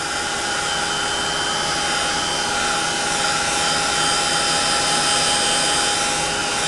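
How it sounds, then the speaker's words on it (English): A handheld heat tool for crafting blows hot air with a loud, steady, close whoosh that holds unbroken throughout, with no talking. "let's get out my new heated tool and heat that"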